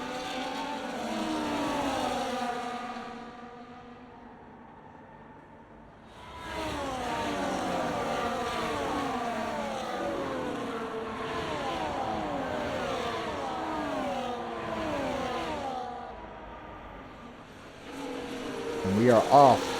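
Race cars in a racing video game, Netherlands round, roar off the start line with rising engine tones sweeping upward in overlapping layers, loud and continuous beneath a commentator's voice.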